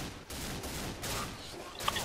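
Gunfire against zombies in Left 4 Dead, rapid bursts of shots in quick succession, fairly faint and continuous, with a brief sharper crack near the end.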